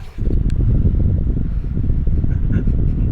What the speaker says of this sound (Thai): ลมที่ออกมาจากคอเสื้อผมตอนนี้